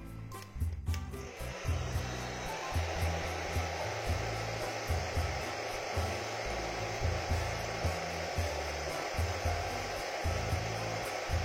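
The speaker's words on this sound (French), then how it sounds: "Petit coup de sèche-cheveux" A hair dryer blows steadily at close range over decals on a 1/35 StuG III model, a loud continuous whooshing hum with a faint pulsing flutter throughout.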